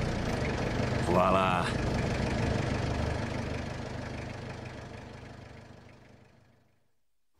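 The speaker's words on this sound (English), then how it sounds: "Can I just try the engine?" A car engine turns over and settles into a steady, rumbling idle at close range for several seconds before cutting off into silence, with a brief spoken word heard early on.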